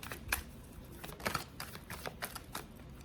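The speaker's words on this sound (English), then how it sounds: "I'm just going to shuffle one more time." Tarot cards being shuffled, a quick series of light riffling clicks and flaps close by, irregular and soft.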